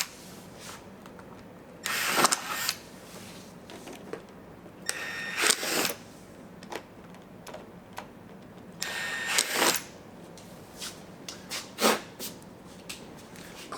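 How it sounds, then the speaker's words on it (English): A power drill with a 1/4 inch bit whirs in about four short bursts while enlarging pilot holes for fender mud flaps on an Arctic Cat Wildcat XX side-by-side, with quieter pauses between each burst. "We'll switch to our 1/4 inch drill bit, and using those pilot holes, we're just going to expand them."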